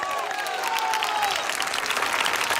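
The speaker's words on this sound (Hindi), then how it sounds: "खड़े होकर ताली बजा कर दिखाओ" A standing congregation at a one-day revival meeting claps hands together in a brief, dense burst of applause, fairly loud and close, with faint crowd noise and some tonal sound in the background.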